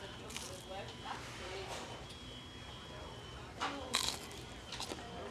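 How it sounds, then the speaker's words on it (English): Bite into a McDonald's McNugget with no sauce, a few close, soft crunchy chews under a steady background hiss, with someone speaking nearby. "No sauce first, we're just gonna take a bite."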